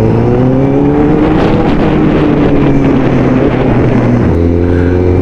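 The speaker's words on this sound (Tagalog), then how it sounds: "Traffic na kagad dito sa amin." Steady, loud traffic rumble from cars and motorcycles passing close by, with wind buffeting the microphone and an engine note dropping in pitch near the end, no voices.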